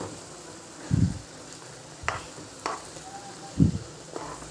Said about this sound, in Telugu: మిగిలిన గ్రేవీ అంతా వేసే కదండి, చూడండి ఆయిల్ ఎలా వచ్చిందో